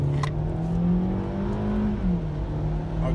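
A 2022 Hyundai Elantra accelerates in sport mode, its engine droning steadily and rising in pitch, with a brief dip like a gear change near the end, heard close from inside the cabin.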